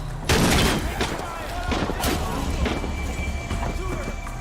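Gunfire in the video game Shadow of the Tomb Raider: a loud burst of shots opens, then scattered cracks and impacts follow amid a busy battle mix with voices talking over it.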